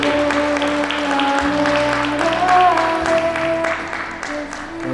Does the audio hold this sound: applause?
yes